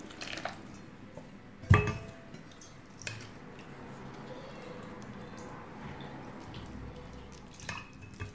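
Water poured into a clay pot of ground coconut paste for a village-style mackerel fish curry, a steady wash of sound after a single sharp clink of the pot, with faint kitchen knocks around it.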